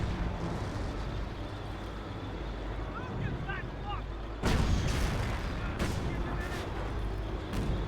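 Gunfire in Company of Heroes, a World War II strategy game with British and Panzer Elite forces, pops in scattered distant shots and thuds beneath a constant roar of battle noise, with one louder burst midway.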